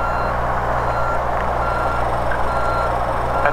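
A light aircraft's engine runs up with the propeller pulled into beta reverse pitch, a steady loud drone with a broad mid-range roar and low harmonic hum, continuous and close with no talk.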